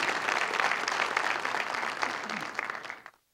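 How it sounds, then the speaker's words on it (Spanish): Applause from the audience at a forum on working conditions at the IMSS, steady moderate clapping from a seated crowd that carries on for about three seconds before stopping abruptly. "un aplauso."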